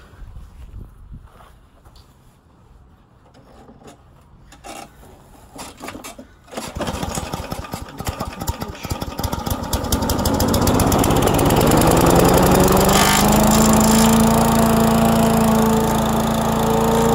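A Rover Victa Special lawn mower engine is pulled over and catches, moving from quiet fumbling and sputters into a loud, steady buzzing run that holds close and constant to the end.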